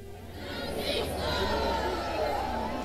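Large outdoor crowd of Cubans gathered at Revolution Square, a steady murmur of many distant voices and chatter filling the open space without a break.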